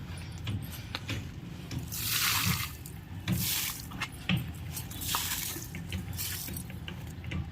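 Liquid plant fertilizer being poured onto potted rose plants: gentle splashing and gurgling pours come in several bursts, moderately close, with no talk.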